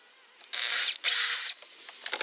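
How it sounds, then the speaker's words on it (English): A drill drives a 3-inch deck screw into a wooden shelf support, two loud whirring bursts of the motor separated by a brief pause, followed by small clicks and handling noise. "Put in a 3-inch deck screw."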